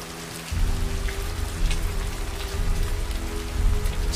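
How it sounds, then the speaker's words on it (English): Steady rain falls in a film scene, a dense continuous patter with a low rumbling undertone, fairly loud and close, with no talk over it. "It's still raining."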